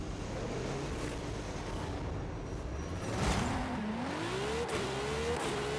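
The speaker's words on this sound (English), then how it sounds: "this thing does have a V12 and sounds like, I don't know, something crazy" A high-revving V12 car engine in the racing game Forza Horizon roars faintly in the distance, its pitch climbing through gear changes, with a low rumble of background noise and no voices.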